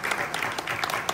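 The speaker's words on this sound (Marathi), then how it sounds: "एकदा जोरदार टाळ्या वाजवून" A crowd at a devotional Warkari gathering in Pandharpur on Ashadhi Ekadashi gives a short burst of loud, dense clapping for a speaker.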